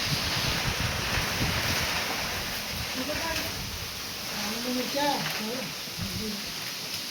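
Steady gusting wind roars over rising water near the microphone, with a continuous rush throughout, while a voice talks intermittently over it.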